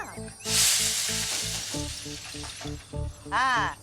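Hot oil sizzles loudly in a frying pan, ready for mustard seeds, a bright hissing burst that lingers over rhythmic background music, with a swooping sound effect near the end.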